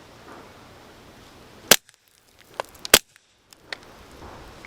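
Two sharp cracks from a Taurus TX22 Gen2 pistol shooting 60 grain rounds into dirt, spaced about a second apart, with faint clicks and light rustling between them outdoors.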